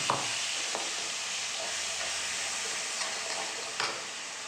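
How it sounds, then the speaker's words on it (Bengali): Spice paste for a red crab curry fries in a wok with a dense, continuous sizzling hiss and a couple of light stirring knocks. "এবার দেখো মশলাগুলো এরপরে দেবো, এটা একটু ভাজা ভাজা হোক। পেস্টটা দিয়ে দিচ্ছি।"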